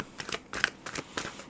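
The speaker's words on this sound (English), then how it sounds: "I feel like we just need to keep shuffling for a little bit longer." Tarot cards are shuffled in a few quick, crisp riffling bursts close by, each a short papery flutter with brief gaps between.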